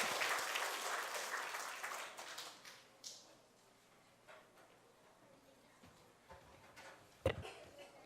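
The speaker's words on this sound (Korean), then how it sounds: "다시 한번 박수 부탁드리겠습니다" A church congregation claps in applause that starts full and dense and then thins out into scattered claps and taps. The sound is distant and fairly quiet, and a sharp knock comes near the end.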